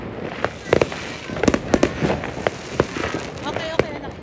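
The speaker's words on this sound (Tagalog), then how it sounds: "since 6 o'clock, the fireworks is non-stop." Fireworks burst non-stop on New Year's Eve in the Netherlands, with sharp cracks and booms arriving in irregular clusters over a steady rumbling wash of distant explosions, some loud and close, others far off.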